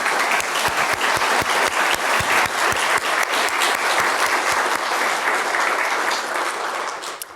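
An audience at an evening panel event on the 9/11 Memorial design competition bursts into sustained applause, dense steady clapping from a full room that carries on for several seconds before tapering off, with no talk over it.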